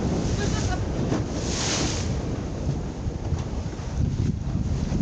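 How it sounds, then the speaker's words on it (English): Ocean waves wash continuously under heavy wind buffeting the microphone, a loud, rough outdoor roar without a break. "We're to go see those waves."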